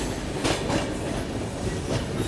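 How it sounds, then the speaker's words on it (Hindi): Bihar Sampark Kranti Express running at 130 km/h near Ghaziabad, a loud, continuous rumble of wheels with rhythmic clatter from the rails. "ये देखिए ट्रेन कंटिन्यूअस 130 की रफ्तार में चल रही है"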